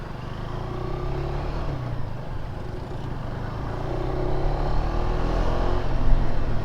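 A 2025 KTM 390 Adventure X motorcycle out on a test ride, its engine droning steadily with low rumble and rising slightly in loudness toward the end, heard up close without speech.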